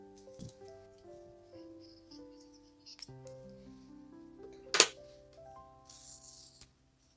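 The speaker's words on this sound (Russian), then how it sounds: "Дальше делаю соединительный столбик и обрезаю ниточку так," Scissors snip through crochet thread with one crisp, brief cut over soft, sustained background music, with a few faint handling clicks around it.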